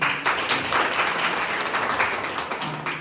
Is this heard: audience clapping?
yes